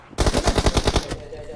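Rapid automatic gunfire in PUBG Mobile, a burst of about nine evenly spaced sharp shots in quick rhythm, loud and close, then cutting off into quieter background.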